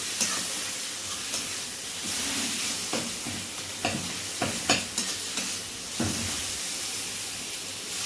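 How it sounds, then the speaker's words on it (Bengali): Spice masala with a splash of water fries in a pan for a chicken skin recipe, a steady sizzling hiss broken by repeated scraping stir strokes, close and continuous. "যে জল দেওয়া হলো সে মশলাটা ভালো করে কষে নিতে হবে"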